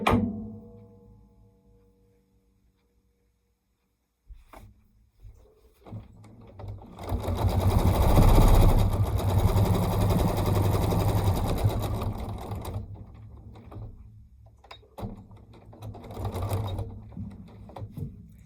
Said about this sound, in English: Now I'm going to just use the tie off from the sewing machine.